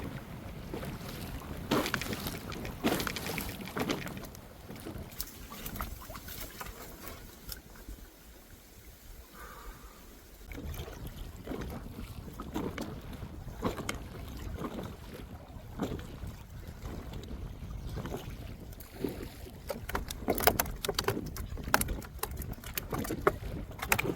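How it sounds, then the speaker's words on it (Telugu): Strong wind blowing across a pond, heard as rough buffeting gusts and rumbling noise that batters the microphone, rising and falling over about twenty-four seconds, quieter near the middle and heavier toward the end, with no talking. "గాలి మాత్రం బీభత్సంగా ఉందండి."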